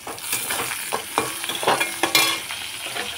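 Chopped tomato dropped into a frying pan of hot oil, a bright sizzle with repeated scraping stir strokes and small crackling bursts, close and fairly loud, no speech.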